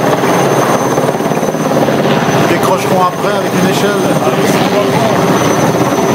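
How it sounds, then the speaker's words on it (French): A helicopter hovers loudly overhead while delivering a new alarm siren onto the Bel Air tower, its steady rotor roar filling the scene before heading away; people talk close by throughout. "Et l'hélico s'en va à la blécherette."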